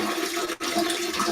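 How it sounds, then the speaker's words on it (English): A toilet flushing nearby, a steady rush of running water that holds for over a second with a brief dip partway through, with no voices over it. "Who was flushing a toilet?"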